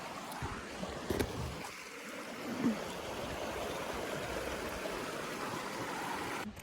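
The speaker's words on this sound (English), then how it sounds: "Bubbs Creek. Down below." Bubbs Creek rushes below a trail in the Sierra Nevada, a steady broadband wash of flowing water heard from some distance, continuous and unbroken, with no talking.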